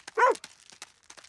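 A cartoon dog in the Thomas the Tank Engine series gives a single sharp, close bark, with faint clicks and quiet background sound around it.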